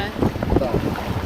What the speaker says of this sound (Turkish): Yelken bak pırpırlıyor.